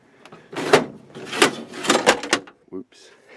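A broken drawer in work van shelving is pulled open, scraping and clattering in several rough metallic bursts, with a thud near the end; loud and close, with a voice talking over part of it.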